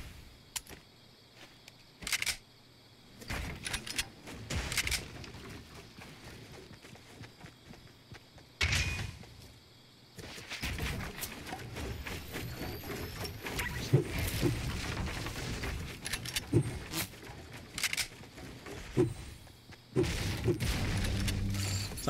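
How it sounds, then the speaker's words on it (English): Gunfire in Fortnite Battle Royale, scattered sharp shots and bursts spread across the stretch among footsteps and gear sounds, some shots near and loud, others thinner and farther off. "Some guy's shooting at me."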